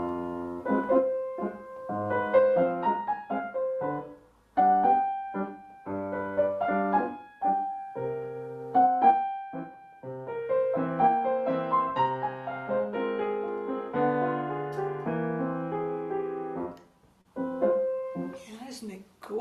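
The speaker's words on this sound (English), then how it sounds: "So this piece, Sospiro, Sigh, by Francisca Gonzaga, sounds like this." Sospiro (Sigh), a turn-of-the-century tango by Francisca Gonzaga, is played on solo piano in a delicate, expressive line over soft chords, with short pauses between phrases and no talking.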